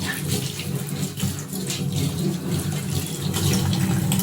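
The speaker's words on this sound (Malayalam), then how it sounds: "ഈ സ്പഞ്ച് നന്നായി കഴുകുക" A sponge is rinsed under a running kitchen sink tap, giving a loud, continuous rush of water with shifting splashes as the sponge is squeezed.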